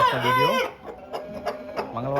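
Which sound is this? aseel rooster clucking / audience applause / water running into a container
aseel rooster clucking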